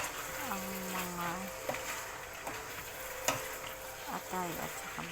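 Chicken liver, gizzard and heart sisig sizzles in a pan while being stirred, a steady frying hiss with scraping and clinking of the utensil, fairly quiet and close, with faint talk in the background.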